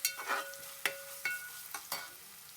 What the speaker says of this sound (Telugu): దీన్ని ఒకసారి బాగా కలుపుకుందాము.